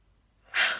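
A young idol yawns during a live chat stream: a quiet lull, then one breathy, drawn-out exhale that swells loudly and stays close to the microphone, with no talk over it.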